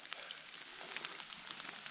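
Rain or hail coming down outdoors in changeable spring weather on a trout fishing trip, a steady soft patter of drops with small scattered ticks, fairly quiet and continuous, with no talking.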